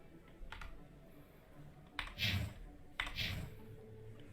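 Computer keyboard and mouse in use: faint, sparse clicks and key taps, with a few sharper clatters spaced about a second apart against quiet room hiss.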